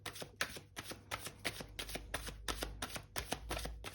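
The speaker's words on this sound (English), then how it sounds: "I will give the deck a few more shuffles" A tarot card deck being shuffled by hand, a quick string of soft riffling bursts repeating in an even rhythm, close and quiet with no talking.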